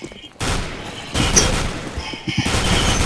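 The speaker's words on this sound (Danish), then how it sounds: "Så vil vi prøve at bruge minigunnen, mens de beskytter mig." Rapid, dense gunfire from a minigun in CS:GO zombie mode, loud and continuous in bursts with brief gaps, broken by a short pause, with a voice talking over it.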